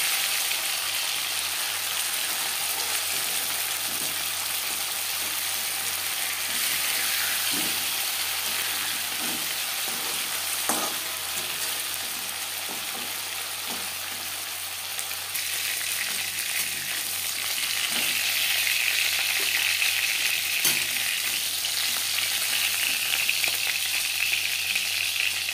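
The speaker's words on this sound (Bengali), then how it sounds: "একটা সাইড ভাজা হয়ে গেলে অপর সাইডটা উল্টে দেবো।" Pieces of boal fish fry in oil with a steady, close sizzle dotted with small pops and spatters, growing louder and brighter in the later half.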